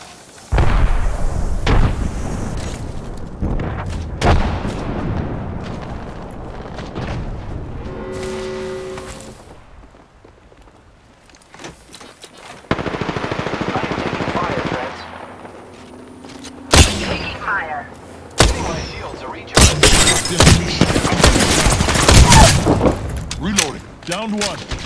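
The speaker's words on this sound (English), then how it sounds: "I am taking fire, friend." Gunfire and explosions in the Apex Legends battle royale shooter: repeated sharp shots and heavy booms in bursts, loud and close, mixed with the game's announcer voice lines.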